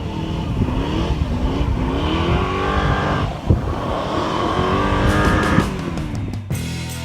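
A 1969 Dodge Charger engine fires up and runs in a garage, a steady loud rumble with engine pitch rising and falling as it is revved, then a brief dip before it settles back to idle.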